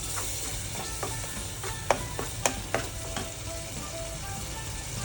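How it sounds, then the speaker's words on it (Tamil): Ground onion and tomato masala stirred in a frying pan for mutton kofta curry, a steady soft sizzle broken by several sharp scrapes of the spoon against the pan, fairly close and alone. "அரைச்சி வச்சுருக்க வெங்காயம், தக்காளி எல்லாம் போட்டு நல்லா கிண்டி விட்டுடணும்."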